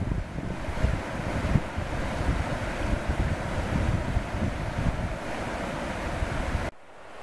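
A rushing torrent of water pours down outdoors, a loud, steady, dense roar that holds for several seconds, then drops off sharply just before the end.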